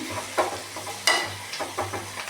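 Chillies and curry leaves sauté in a pan and are stirred, giving a soft sizzle broken by scraping strokes of the spoon at an irregular pace, fairly quiet and close.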